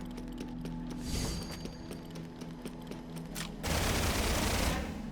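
Gunfire in the PS5 shooter Scar-Lead Salvation: a rapid sputter of shots and mechanical clatter, swelling into a louder sustained burst of automatic fire in the latter half, no talk.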